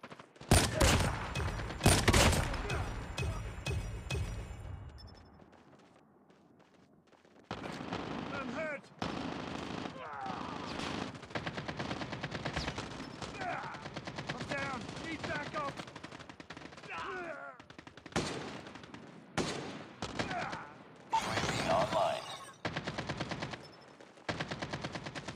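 Automatic weapons fire in a shooter game: dense bursts of gunshots, loud and close, break off after a few seconds, then return in choppy volleys among battle noise and shouted voice lines.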